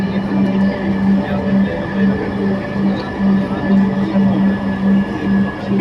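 Dhaka Metro Rail train running between stations, a steady low rumble with a pulsing hum, heard from inside the car under a continuous close, moderately loud drone.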